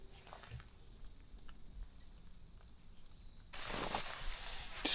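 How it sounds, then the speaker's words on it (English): Rain begins falling outdoors along a fence row during a bowhunt in Ohio, a quiet patter that swells into a louder, steady hiss of rainfall near the end. "It's starting to rain again."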